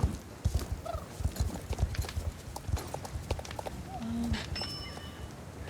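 Horse hooves clip-clop in a horse video game market with very old horses, giving a steady, fairly close run of hoof hits that fade slightly toward the end, with a faint whinny-like tone and quiet ambient game sounds.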